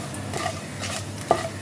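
Black cumin seeds and a dried chili stirred in hot oil as a tempering, a soft close sizzle with brief scraping strokes of a spoon against the pan.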